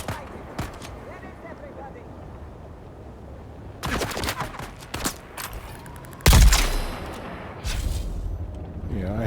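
Charge shots fire in the video game Dune Awakening: a few loud, sharp blasts in short clusters, the heaviest near the middle, each followed by a rumbling tail over a low, steady game ambience.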